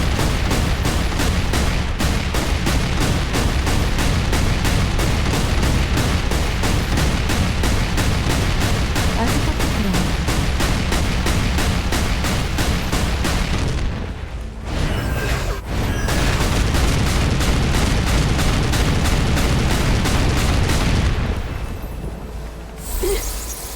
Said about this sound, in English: We gotta use turrets on this one.